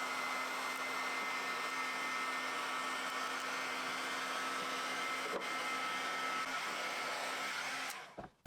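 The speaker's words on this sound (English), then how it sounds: "Now I'm going to hit the rest of this with the heat gun to try and peel it off easier." A heat gun blows hot air while softening material so it peels off more easily. A constant, even whooshing drone runs for about eight seconds close to the mic, then cuts off abruptly, with no voices.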